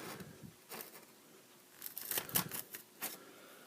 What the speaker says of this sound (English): I'm just going to cut in between the gold pins.